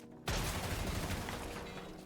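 Gunfire in a video game shooter bursts in suddenly as a loud, sustained volley of rapid shots that fills the clip and stays dense throughout.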